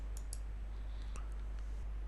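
A computer mouse clicks a few times while working in an Excel spreadsheet, sharp light clicks spaced apart over a steady low electrical hum, with no talking.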